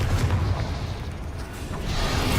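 A Bombarda blasting spell explodes in Hogwarts Legacy, a dense, sustained low boom and rumble with a whooshing wash of debris, loud and continuous for a couple of seconds with no talking.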